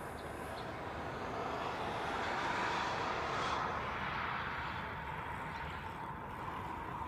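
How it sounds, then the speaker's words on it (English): A Boeing C-17 military aircraft moves at a Hawaii airport, its jet engines producing a distant, broad steady roar that swells slightly and holds, faint and alone. "that first C-17 is on the move"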